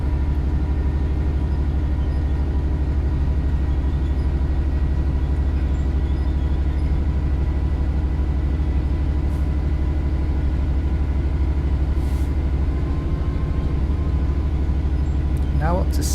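A Southeastern high-speed train accelerating in Train Sim World 4 gives a steady loud cab rumble with a low engine drone and a faint rising whine toward the end, under a man's speech.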